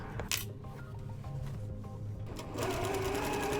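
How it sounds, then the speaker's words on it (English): A sewing machine stitching around the edge of a pillow, a steady close mechanical whirr with a faint click near the start, running louder and faster in the last second. "Now we just need to sew all the way around the edge."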